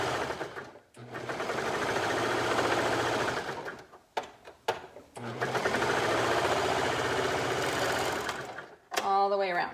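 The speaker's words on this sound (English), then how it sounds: "We're simply going to sew all the way around." A sewing machine stitches all the way around a piece of fabric in two long, steady runs separated by a brief pause, with a short sound at the very end.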